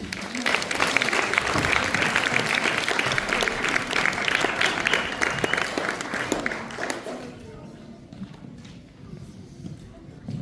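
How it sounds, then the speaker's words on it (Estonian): An audience at a school open-stage show gives the drama group a big round of applause. The sustained clapping fades to near quiet in the last few seconds. "Teeme neile suure aplausi."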